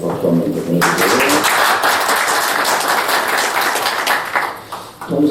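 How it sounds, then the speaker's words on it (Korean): Audience applause at a Korean political debate forum, a sustained wash of clapping from a seated crowd that holds steady for several seconds and then begins to thin out near the end. "손금주 의원님한테 박수 한번 더 보내주세요"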